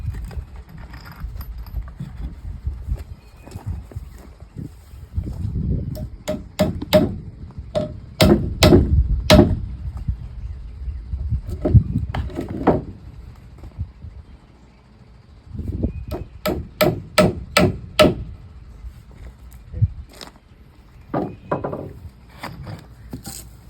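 Common nails are hammered into a wooden post in bursts of sharp, rapid blows, pausing between clusters. The strikes ring close and loud over some handling noise.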